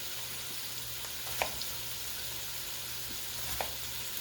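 Sausage sizzles in a skillet with onion added, a soft steady frying hiss punctuated by a couple of brief clinks or scrapes, fairly quiet with no voices.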